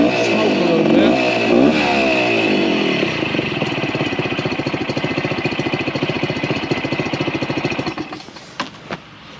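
A two-stroke AT3 three-wheeler engine running on premix revs loudly and nearby, then settles into a rapid, buzzy, pulsing idle that fades with a few sputters at the end.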